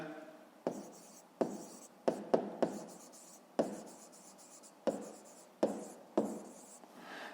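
Handwriting on paper while working a fifth-grade maths exercise: about ten sharp, separate pen strokes and taps in an uneven rhythm, each with a short scratchy tail, close and fairly quiet, with no talking.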